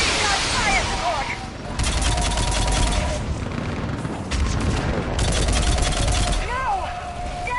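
Sustained gunfire support rattles across a battlefield in the video game Mass Effect. Dense bursts of rapid shots come in loud waves, while sharp electronic chirps and whines flicker over the din.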